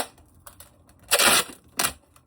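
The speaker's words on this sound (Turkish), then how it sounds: "ben hemen bantımdan keseyim." Adhesive tape is pulled and cut from a roll in two quick, close, crackling tears with short quiet gaps between.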